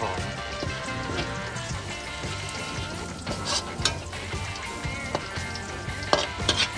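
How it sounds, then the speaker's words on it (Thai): Steady sizzling and frying of minced pork in a hot wok, with scattered scraping and stirring clatter from a utensil; no voices. "พอกระเทียมเริ่มเริ่มเหลืองเราก็จะเอาหมูสับที่เราคลุกไฟสีลงไปผัดนะครับ"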